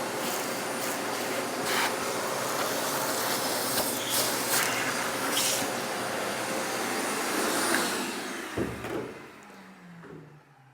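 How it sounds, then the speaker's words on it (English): A shop vac roars steadily as it sucks metal shavings off a workbench in a workshop, with rattles and clicks of debris through the hose before the motor winds down near the end. "I think the shop vac's the easiest way to keep your workbench clean."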